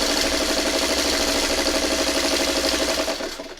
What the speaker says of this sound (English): We're just going to sew right across this.